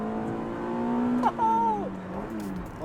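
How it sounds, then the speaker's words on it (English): A Honda Del Sol's VTEC engine revs hard as VTEC engages, the steady harmonic drone climbing and then sweeping up sharply in pitch, heard close from inside the car with no talking. "Did you hear VTEC kicks in?"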